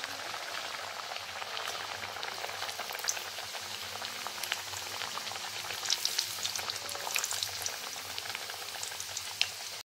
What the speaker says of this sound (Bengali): কড়াইয়ে তেল বসিয়ে দিয়েছিলাম আর তেলটাও গরম হয়ে গিয়েছে, তাই আমি এখন এর মধ্যে লুচিটাকে ছেড়ে দিচ্ছি।